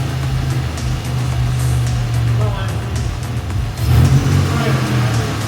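Chevrolet Lumina race car engine idling roughly and unevenly, a steady low drone with slight surges, under ambient noise with faint voices nearby.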